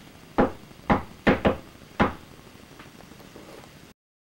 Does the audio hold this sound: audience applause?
no